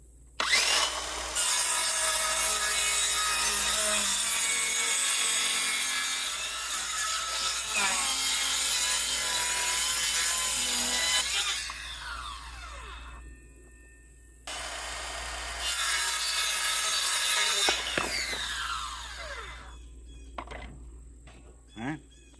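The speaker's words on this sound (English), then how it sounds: "I want to cut this and rip it down in half" A wood board being ripped in half with a power saw during a well house build, a loud sustained cutting roar lasting several seconds, then a pause and a second shorter cut.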